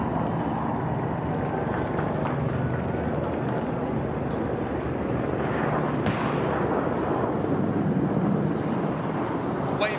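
Military aircraft in a flypast at the Queen's Platinum Jubilee air display, a broad roaring rumble from overhead rising and swelling over ten seconds, with a crowd's noise beneath it.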